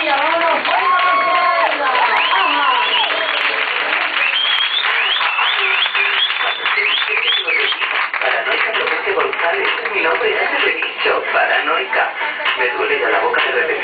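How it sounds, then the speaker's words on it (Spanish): A live audience applauds and cheers for performer Tormenta García, with dense, steady clapping that stays loud for the whole stretch and some whoops and shouts rising above it. "el aplauso para Tormenta García"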